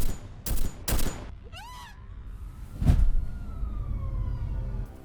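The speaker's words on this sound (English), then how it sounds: "Her screams were silenced by a gunshot." A single sharp gunshot rings out at close range amid a violent hotel attack, preceded by two loud bangs and a brief chirping sound, followed by a lingering low rumble.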